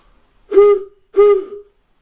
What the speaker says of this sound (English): you'd open the valve and it would blow like a horn